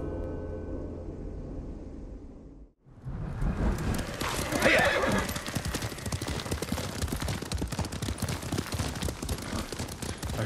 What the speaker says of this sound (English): This horse belonged to Clan Adachi.